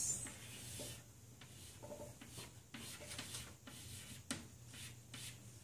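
Pen strokes scratching across paper as someone draws an anatomy diagram of the bladder and urethra by hand; quiet, intermittent rubbing and scribbling bursts with short pauses, no talking.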